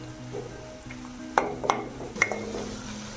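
Dry coconut is stirred in a pan for dry chole masala, giving a soft sizzle broken by three sharp spoon clinks and scrapes against the metal, close up and with no talking.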